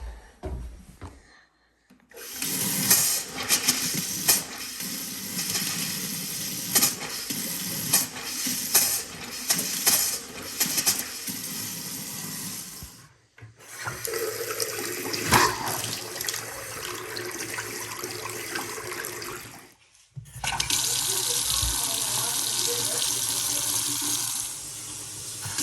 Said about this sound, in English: Now I'm gonna go open all the cold taps,